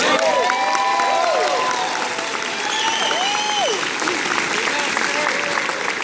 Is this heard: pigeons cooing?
no